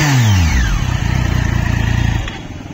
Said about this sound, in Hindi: ट्रायम का थोड़ा आवाज आप लोग सुन लो कैसा क्या है